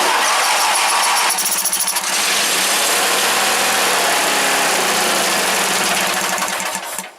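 A Briggs engine on a Wheel Horse GT-1800 tractor runs loud and steady up close, a continuous mechanical roar with a slight shift in pitch early on, then dropping away at the very end.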